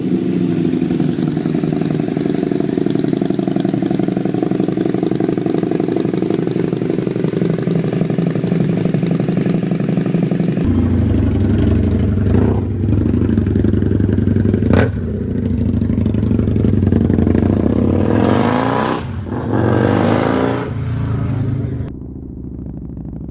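A Husqvarna Nuda 900 inline twin motorcycle engine idles steadily and loudly up close, then shifts into a series of sharp throttle blips and revs that rise and fall before cutting back near the end.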